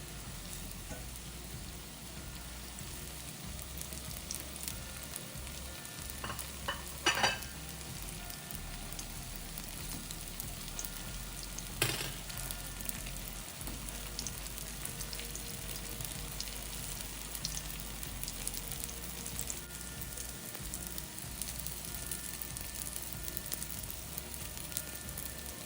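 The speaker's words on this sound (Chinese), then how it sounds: "待油热后将梅菜生坯逐一放入" Preserved vegetable dumplings pan-frying in a little oil over medium-low heat, a faint, steady crackling sizzle like light rain, with a couple of brief knocks, no talking.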